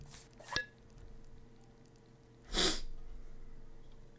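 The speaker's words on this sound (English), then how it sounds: "The fan keeps sneezing." A fan character sneezes in the horror video game Aka Manto, with one sharp sneeze burst, a quieter earlier sneeze-like snort and a soft background hum.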